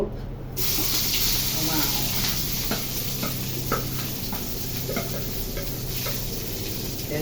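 Onions and green chilies fry in a hot pan for fried rice: a steady, close sizzle and hiss starts abruptly and continues, with light stirring clicks and people talking over it.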